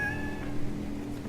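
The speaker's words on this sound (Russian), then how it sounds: "Ты входишь, и оно типа мяучит." A cat meows in Deus Ex: Mankind Divided, one drawn-out in-game mew with a tonal rise, heard alone over a low ambient hum.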